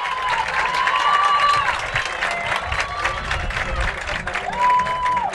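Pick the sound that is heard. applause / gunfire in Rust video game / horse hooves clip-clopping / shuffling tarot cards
applause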